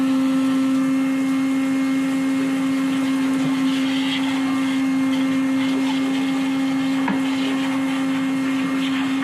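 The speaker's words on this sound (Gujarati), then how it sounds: "આ વેક્યુમ ક્લીનર ઘંટીની સાથે આવ્યું" A vacuum cleaner cleans a household flour mill, holding a steady, even motor whine at moderate loudness from start to finish without pause.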